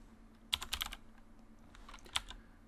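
Computer keyboard keys clatter in two short bursts of quick typing, close and fairly faint, with a pause between them over a low background hum.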